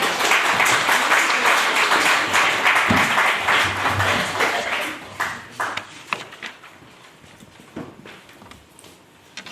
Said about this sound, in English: please join me in a very warm round of applause for our speakers